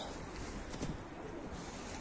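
A Van pigeon coos softly outdoors, low and muffled under steady wind-like noise across the short stretch.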